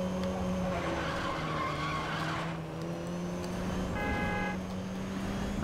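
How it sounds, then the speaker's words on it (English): Tyres skid and squeal continuously as a car drifts in Need for Speed Most Wanted (2012), loud and sustained over a steady engine drone, with a brief horn-like tone near the end and no talking. "I was trying to drift."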